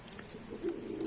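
A tritis breeding pigeon gives a short, soft low coo, close and fairly quiet, over faint background noise.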